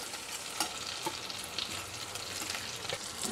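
Spice masala sizzles as it's sautéed in a pressure cooker with raw sesame seeds, peanuts and tomato for a stuffed brinjal and potato curry; a steady, fairly soft frying hiss with occasional stirring scrapes.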